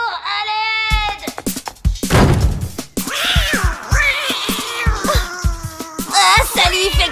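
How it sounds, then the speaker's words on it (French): A cartoon cat lets out loud, wailing meows and drawn-out caterwauls, rising and bending in pitch, with brief bursts of noise between the yowls. "qu'est-ce que c'est que ce chat?"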